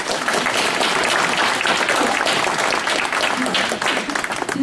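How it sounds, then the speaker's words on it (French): Audience applause at a New Year's greetings gathering, loud and steady with dense clapping from a large crowd throughout, close and sustained without a break. "Je crois qu'on peut l'applaudir."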